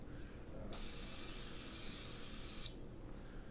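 A single two-second hiss of non-stick cooking spray from an aerosol can onto a waffle iron, close by, with quiet room tone before and after.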